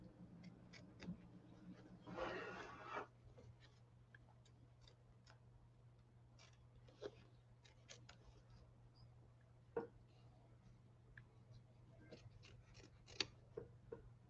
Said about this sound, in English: applying a little bit of light pressure outward on that fabric to get a nice clean cut